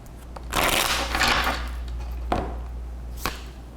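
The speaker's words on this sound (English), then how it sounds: "I'm going to try to limit my shuffling here" Tarot cards are shuffled close up in a soft, papery rush that swells for about a second, then fades, with two brief snaps of the deck afterward and no talking.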